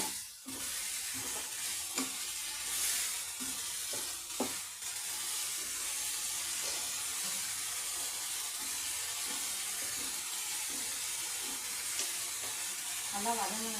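Cumin seeds sauté in hot oil with a low, steady sizzle, joined by occasional stirring taps and scrapes from a utensil, fairly faint throughout.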